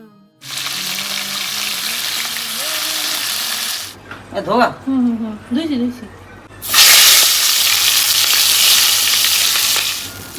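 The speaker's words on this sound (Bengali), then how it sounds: "এখানে ট্যাংরা মাছ ভাজবো" Tangra fish frying in a pan: loud, dense sizzling that breaks off while a voice speaks, then resumes at full strength, close and continuous.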